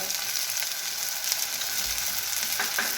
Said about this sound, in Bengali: দিয়ে ভালো করে মিশিয়ে নেবো আবার একটু জল দিয়ে মশলাটাকে ভালো করে কষে নেব